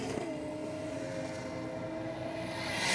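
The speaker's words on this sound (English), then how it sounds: "We got VL Commodore up against the Falcon" Holden VL Commodore and Ford Falcon racing side by side at Sydney Dragway, giving a continuous loud engine drone at mid distance that rises toward the end.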